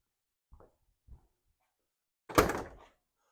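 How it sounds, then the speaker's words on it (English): Someone opens the door of a 1969 Ford Mustang: two faint clicks from the handle and latch, then one sharp metallic clunk as the heavy door swings open, all in a quiet setting. "Let me open the door"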